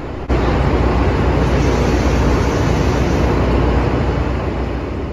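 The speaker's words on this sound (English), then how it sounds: "the diesel locomotive is ready to go, and we are out of here" A Metra diesel locomotive pulls a commuter train out of Chicago Union Station with a sudden loud onset, then a steady heavy broadband roar and low engine drone that holds throughout and eases slightly near the end.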